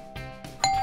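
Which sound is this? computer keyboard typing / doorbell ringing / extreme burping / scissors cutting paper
doorbell ringing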